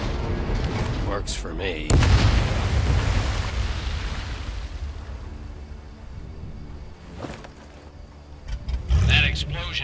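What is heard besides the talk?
explosion in Medal of Honor Above and Beyond video game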